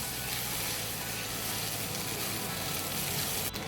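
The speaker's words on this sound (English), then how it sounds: "Now that my rice has sauteed well" Long-grain rice sautéing in a hot pan for Mumbai street-style veg tawa pulao, a steady close sizzle and crackle that stays even throughout, with no voices.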